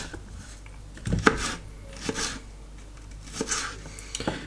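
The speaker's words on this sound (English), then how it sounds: "So currently just chopping up some. So what have I got here? I've got some shallots that I'm doing now." Knife chopping shallots on a board in a home kitchen: a few sharp, separate knocks and scrapes at irregular intervals, close by and moderately loud, with no talking.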